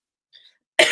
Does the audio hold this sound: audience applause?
no